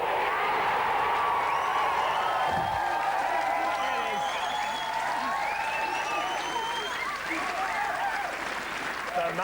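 A television studio audience claps and cheers steadily for an arriving guest, a dense wash of applause with a few whoops, and voices talking faintly underneath.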